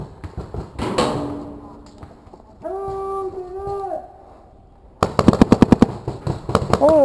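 Paintball markers fire on a maze-style paintball field in rapid, sharp bursts of pops. A steady drone and a tonal whistle come in between the volleys.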